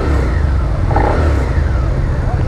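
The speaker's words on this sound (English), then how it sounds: "Here's startup for you guys." Near-new 2017 Suzuki SV650 motorcycle engine running at startup, a loud steady idle rumble with a brief rise in pitch as it revs, close and continuous.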